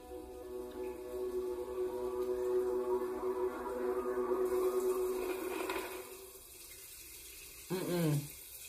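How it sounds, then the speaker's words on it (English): A shower runs in a dark house, a steady hiss of water falling under tense ambient tones, then stopping abruptly before a short burst of another sound. "The shower"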